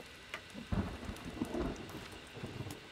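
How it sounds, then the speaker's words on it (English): In the survival game The Forest, steady rain patters while low thunder rolls and cracks nearby, fairly quiet overall with no voices. "Okay, it's raining. Now, of all times."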